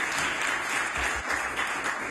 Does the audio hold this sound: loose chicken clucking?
no